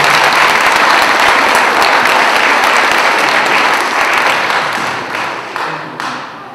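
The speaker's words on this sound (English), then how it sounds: "Let's give him a round of applause." A school assembly audience gives loud, dense applause right from the start, a continuous wash of many hands clapping that slowly fades toward the end.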